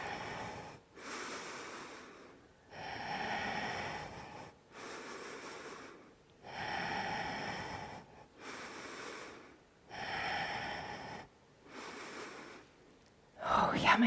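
Forceful exhaled breaths during a strength workout, a slow series of about seven long breathy puffs separated by short pauses, close and fairly loud, ending with a sharper sound.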